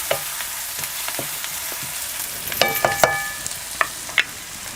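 Sliced onions frying in a pan until reddish for paneer masala, a soft continuous sizzle with scattered spatula clinks and scrapes, a cluster of metallic taps midway, no talking.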